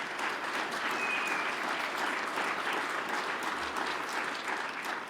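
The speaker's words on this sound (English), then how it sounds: "Big round of applause for Rusty." Steady, dense applause from a hall of fame induction audience for Rusty, a continuous wash of many hands clapping at even loudness throughout with no speech on top.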